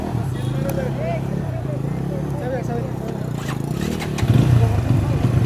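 A Bajaj Pulsar N160 4V motorcycle engine runs steadily at a crowded outdoor dealership event, then rises into a louder rev near the end, with voices and crowd chatter throughout.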